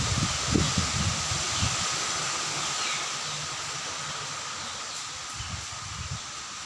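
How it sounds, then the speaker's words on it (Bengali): Broadband rushing of strong storm wind, a continuous hiss with low rumbling gusts that rise and fall. "প্রচুর ঝড় তুফান হচ্ছে"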